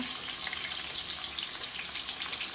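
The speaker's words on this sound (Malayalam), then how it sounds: "ഇതിൽ നിന്ന് കുറച്ച് സവാള എടുത്ത് വറുത്തെടുക്കാം" Steady hiss and crackle of onions frying in hot oil, close and constant with no voices.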